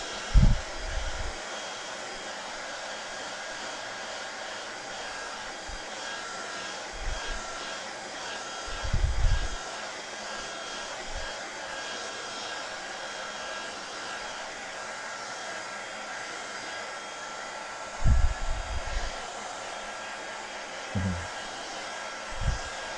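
A hair dryer blows steadily and close for the whole stretch, drying a craft project with a constant airy whine, broken by a few low thumps and handling knocks.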